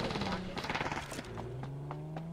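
Gunfire in the battle royale game Ring of Elysium: a quick rattling burst of shots followed by several sparser single cracks at moderate distance, under a steady tonal hum and some talking.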